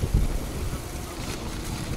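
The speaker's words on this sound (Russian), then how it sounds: "Ветром волосы прям в глаза сдувает." Wind buffets the microphone during a family bike ride along the seaside promenade at Marbella, Spain, a rough, steady rumble with a louder gust at the start.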